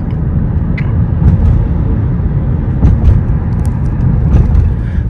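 A 2004–2005 Honda Odyssey RB1 Absolute MPV rolls toward a toll gate, a steady loud low road rumble and engine drone from inside the cabin with faint ticks and clicks, no talking.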